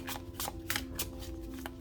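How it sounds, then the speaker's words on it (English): A deck of tarot cards being shuffled up close, quick papery flutters and riffles repeating in a steady rhythm for about two seconds, with no talking. "I like to pre-shuffle some cards"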